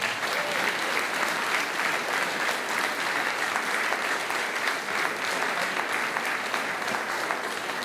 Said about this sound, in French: Et je pense qu'elle mérite des applaudissements.